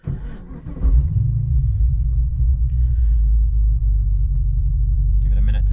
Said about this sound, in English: let me just turn the car on